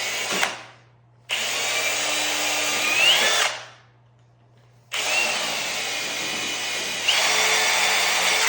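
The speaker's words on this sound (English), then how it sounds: "We'll have to drill it." A power drill runs in two loud sustained bursts with a short pause between them, drilling into PVC Royal base moulding as it is set around a shower, with no talking.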